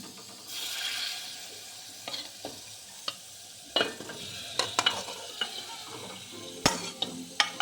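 Chicken pieces tipped into a pan of ground masala paste, with a burst of sizzle followed by scattered clinks and scrapes of stirring, close by, no talking.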